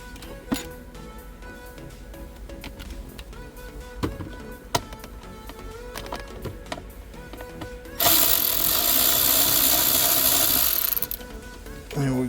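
A power tool removes a T20 Torx screw from a Mini Cooper dashboard, running as a loud, steady whirring buzz for about three seconds after a stretch of light clicks and handling knocks.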